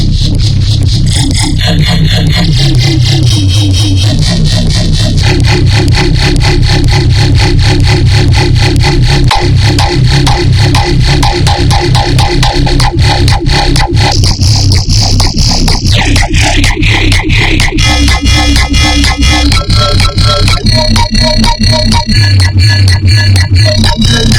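A thick, gritty synthesized wavetable bass pattern with shifting, growling timbres and rhythmic LFO wobbles plays loudly and continuously throughout.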